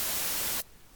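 A brief burst of bright, hissy high-pass filtered white-noise static, thin and airy, lasting about half a second before cutting off sharply into near silence.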